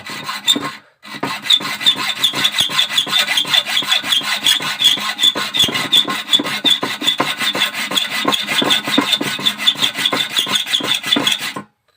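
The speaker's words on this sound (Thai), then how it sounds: "เลื่อยให้เป็นร่องเลยนะครับ" A hand saw rasps back and forth, cutting a slot into a stripped metal bolt on a Yamaha Fino crankcase cover, in quick, steady strokes, close and loud, with one brief pause near the start.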